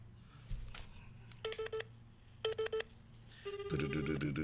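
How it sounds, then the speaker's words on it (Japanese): A telephone dials with three quick bursts of keypad beeps, then a continuous ringing tone starts and runs to the end, over a low background hum. "電話なってるけど"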